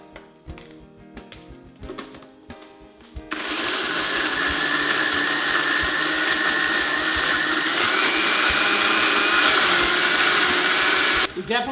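A blender whirs loudly for about eight seconds as it chops chives with olive oil, preceded by a few clicks and knocks of handling and ending abruptly.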